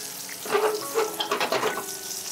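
A thick homemade hamburger patty sizzles in a frying pan, with bursts of crackling spatter as the pan is shifted now and then, close and moderately loud.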